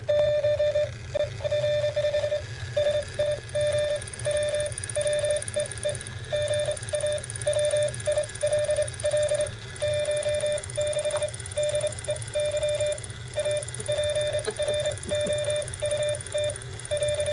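A steady stream of Morse code beeps over a radio, short and long tones in quick rhythm against a hissing, static-filled background.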